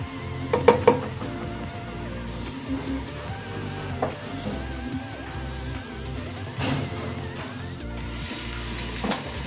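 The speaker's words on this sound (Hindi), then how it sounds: "प्याज को हल्का ब्राउन करना है।" Onions frying in a pan until light brown, cooked for tinday gosht: a steady, close sizzle runs throughout, with a few louder clinks near the start.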